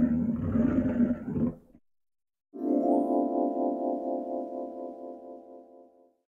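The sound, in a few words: lion roaring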